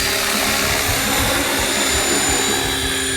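Large, powerful RC helicopter spinning up, a loud, close, continuous whine and rotor roar with a rapid pulsing chop underneath, steady across the whole moment with no talk.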